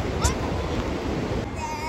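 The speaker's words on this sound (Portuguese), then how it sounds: "Tá ouvindo o barulho do mar." Ocean surf rolling onto a beach in a steady broadband wash, with wind buffeting the microphone and a faint tone mixed in, continuous and fairly close with no clear talk.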